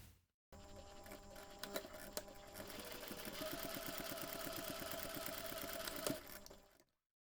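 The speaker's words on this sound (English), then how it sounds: "Next you can take this to the machine and top stitch along that folded edge." A sewing machine top stitches along the folded edge of a fabric heart bookmark, its rapid mechanical needle pulses running steadily for about six seconds, close and clear, with no voices.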